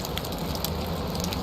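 Rain in the video game Valheim, a short burst of soft, dense, crackling patter that stays even throughout.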